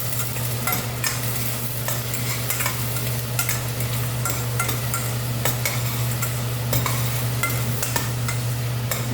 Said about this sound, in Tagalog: Gisa-gisa lang po. Gisa.